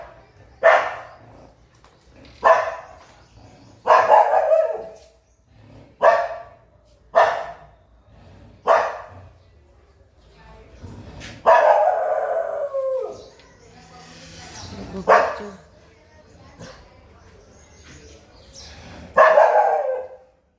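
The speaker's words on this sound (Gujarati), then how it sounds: "એટલે આવ્યા ભસતું હશે." A dog barks at a snake at home: a series of loud, sharp barks spaced a second or two apart, some drawn out into howling yelps, with quiet gaps between.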